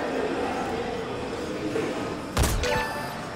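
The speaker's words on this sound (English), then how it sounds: "We're going to try and take him out from long distance here with our sniper rifle" A single sharp sniper rifle shot fired at long range in Metal Gear Solid V: The Phantom Pain, cracking out once over steady game ambience, with a brief echoing tail after the report.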